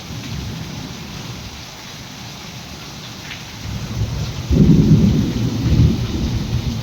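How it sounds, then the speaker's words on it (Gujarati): Heavy rain pours continuously in a village storm with strong wind and lightning as thunder rumbles low, swelling into a louder, closer roll partway through and lingering to the end. "વીજળી પડે છે ખતરનાક ને એકદમ ફૂલ વાવાઝોડા સાથે વરસાદ છે"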